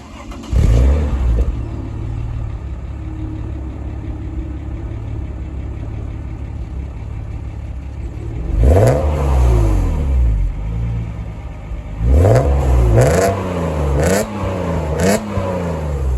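A Mercedes W202 C36 AMG with an M104 engine and custom exhaust fires up warm and settles to idle, then gets several sharp blips of revving later on, loud and close.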